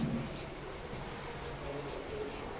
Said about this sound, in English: write this last statement